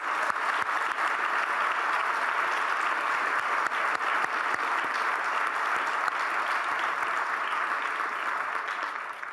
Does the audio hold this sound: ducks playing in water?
no